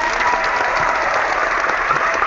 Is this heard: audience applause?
yes